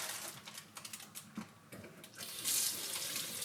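Vegetables going moldy rinsed under a running kitchen tap before being chopped, water splashing and clattering in short bursts that swell into a steadier hiss near the end.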